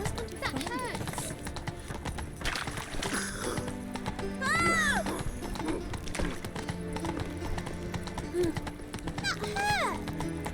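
A horse galloping in the video game The Witcher 3, its steady clip-clop running through game music and ambience while people talk over it and a neigh briefly rises.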